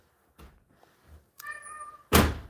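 A single clear cat meow between dull thumps, followed by a loud knock-like thud, close by with no speech.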